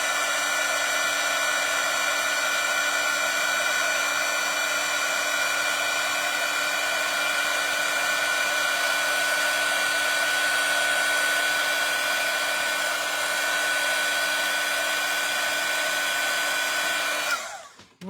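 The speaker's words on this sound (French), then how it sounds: "Et ensuite, avec mon fer, je vais chauffer." A heat embossing tool blows hot air steadily over embossing powder on a card, a loud, constant whirring hiss with a fixed whine that runs unbroken for many seconds before cutting off abruptly.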